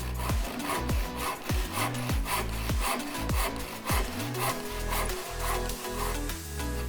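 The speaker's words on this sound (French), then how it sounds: "on finit par découper l'encoche à l'aide d'un ciseau" A wood chisel cuts notches into timber for a folding workbench, giving loud, repeated scraping and rasping strokes in a steady rhythm, close and alone without talk.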